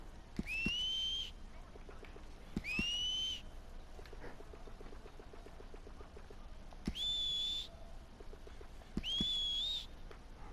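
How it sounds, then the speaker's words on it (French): A character in the video game Red Dead Online whistles in four short, clear, rising bursts spaced a few seconds apart, over a quiet game background. "il a du mal à siffler, on dirait là."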